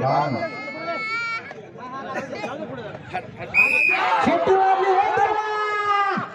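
Crowd noise at a bullock cart race in Devrukh, overlapping voices and shouts with a loud, strained call rising above the babble near the end, the whole mix close and busy.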